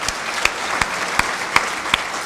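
A crowd at a political party workers' convention in Haryana applauds the state office bearers: a steady wash of dense clapping, loud and close, punctuated by sharper individual claps at a regular pace.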